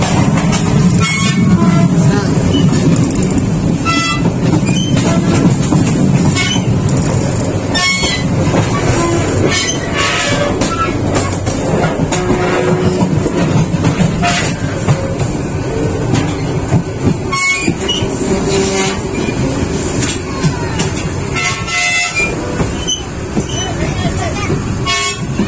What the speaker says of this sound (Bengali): মেঘনা এক্সপ্রেস ক্রস করবো চাঁদপুরের জন্য।